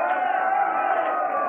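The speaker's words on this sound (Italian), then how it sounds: "la folla è in delirio" An Italian football match crowd roars in a steady, dense wall of cheering and shouting, loud and continuous with no break for the full moment.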